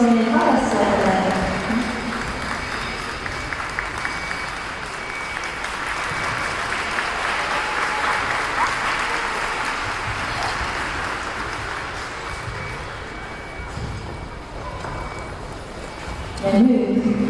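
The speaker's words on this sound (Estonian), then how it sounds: "Suur aplaus meie harrastajatele." Sustained audience applause for hobby dancers at an ice skating school's season-end show, a broad continuous wash of clapping that swells and gradually fades, with voices briefly heard at the start.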